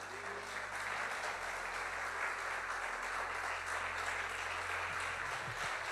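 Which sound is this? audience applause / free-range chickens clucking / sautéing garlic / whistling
audience applause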